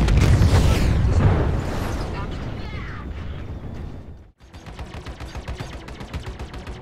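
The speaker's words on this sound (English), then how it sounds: "a couple of my missiles make short work of his hull" Missiles slam into a Vanduul enemy ship's hull in Star Citizen, a loud rolling barrage of booming explosions and rapid cracking blasts that cuts out briefly before a quieter stream of rapid fire carries on.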